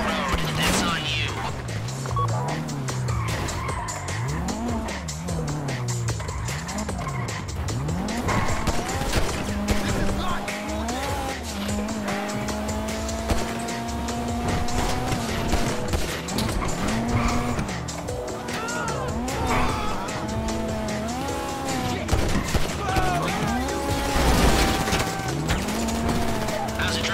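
Car driving in GTA V, an engine revving up and down with repeated tire squeals and skids as it corners, loud and close, with a voice talking over parts of it.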